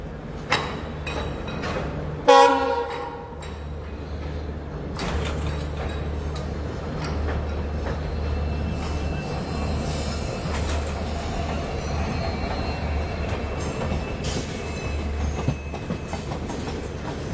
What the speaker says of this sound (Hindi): क्या बात है, ट्रेन डीजल लोकोमोटिव।